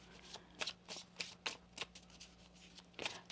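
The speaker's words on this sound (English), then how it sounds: "One more shuffle." Tarot cards are shuffled by hand in quick, close riffling bursts, about seven crisp flutters with brief pauses between them, quiet and alone.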